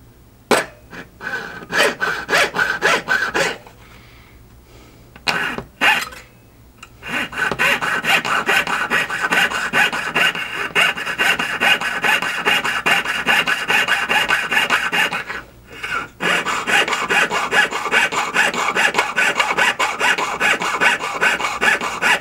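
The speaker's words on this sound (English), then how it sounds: "I'm going to go ahead and start sawing." A jeweler's saw cuts metal for a belt buckle ring in steady, rapid back-and-forth rasping strokes, close and fairly loud, with short pauses early on and another brief break near the end.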